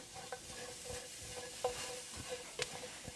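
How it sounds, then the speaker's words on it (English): Oil-free glazed green beans are stirred in a pan with soft, irregular scraping and clicking strokes over a low, faint sizzle, close by, with no voices. "Just keep it stirring, keep everything going."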